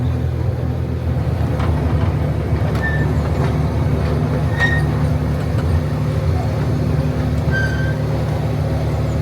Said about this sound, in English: I do love a good train ride at a theme park.